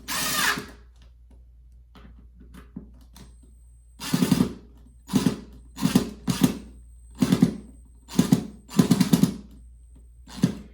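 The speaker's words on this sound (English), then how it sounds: "Now all I have to do is put in my screws." A power drill whirs in a series of short bursts, driving screws into a wall to mount curtain rods, about eight quick runs with brief pauses between, close and loud.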